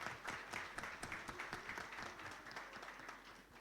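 Applause from those present at a formal solemn session for an international day of solidarity with the Palestinian people, greeting an embassy dignitary: steady, even clapping from a moderate crowd, faint and somewhat distant, continuing without a break.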